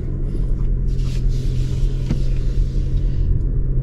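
A 2022 Toyota Highlander Hybrid Limited on the move, giving a steady low cabin rumble of road and drivetrain noise with a faint hum, continuous and even throughout with no talking.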